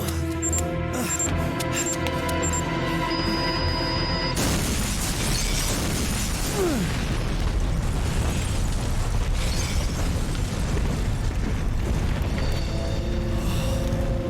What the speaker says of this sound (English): At least an explosion.